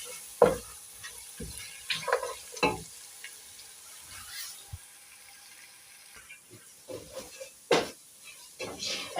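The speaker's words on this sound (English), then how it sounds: "For the pilau masala, I have to make sure I cook well" Pilau masala spices frying in a pot, with a soft sizzle beneath intermittent scraping stirs and clatters from a spoon, irregular and close, some stretches quieter.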